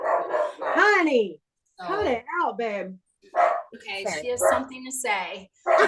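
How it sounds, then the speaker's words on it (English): Dog barking indoors, several loud close yips and barks in short bursts mixed with someone talking between and over them. "That's my dog."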